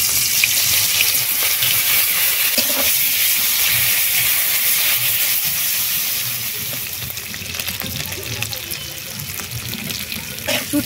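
Dried fish fry in hot oil in a wok, a steady loud hiss and sizzle with occasional crackles that eases slightly partway through.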